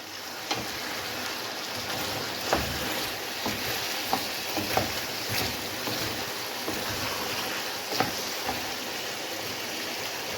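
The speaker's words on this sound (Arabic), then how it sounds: "نزيد نقطع فيها القرعه كورجات، ونقعد نقلب فيها البطاطا تاعي حتى نطيب" Potatoes and zucchini cooking in seasoning get stirred in a pan, giving a steady, moderately loud sizzle with a few sharp utensil clicks scattered through it.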